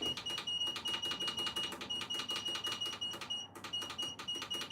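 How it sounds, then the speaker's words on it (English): Electronic timer beeping indoors, a fast string of steady high-pitched pulses that repeat almost without a break, with a brief pause near the end, loud and close over faint room noise. "it's literally a timer"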